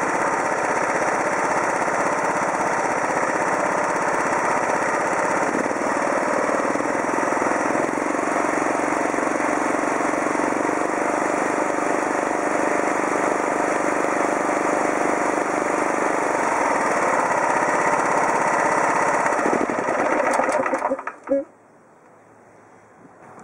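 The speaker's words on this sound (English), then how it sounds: "You couldn't obviously hear what I was saying because the engine was running" Stiga Park 120 ride-on mower engine running at a steady, loud drone for about twenty seconds before it cuts out abruptly near the end.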